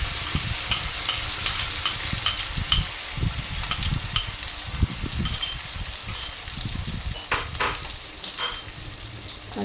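Tomato puree and spices for a Delhi-style aloo sabzi sizzle and fry steadily in a pan, with repeated scraping stir strokes and occasional louder spits throughout, no voices.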